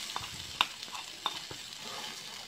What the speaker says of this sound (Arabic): كيف العاده غادي نشحروا البصله ديالنا والثومه مع شويه ديال الزيت